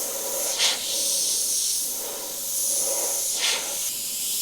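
An airbrush sprays paint at just under 40 PSI, a continuous airy hiss that swells and eases, with two short sharper bursts of spray, heard close and alone.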